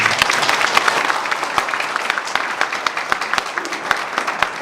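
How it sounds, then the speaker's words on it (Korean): Audience of market merchants' association members applauding mayoral candidate Yeom Tae-young after a debate in Suwon, a steady, fairly close wash of clapping with distinct sharp claps throughout. "후보자님의 번승을 기원하는 우리 큰 박수 부탁드리겠습니다"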